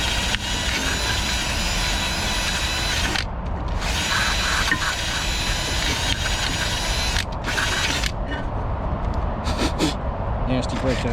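Wire brush scrubbing nasty brake dust off the rear caliper of a Nissan Rogue, a loud, close, rough rasping in fast back-and-forth bursts with brief pauses.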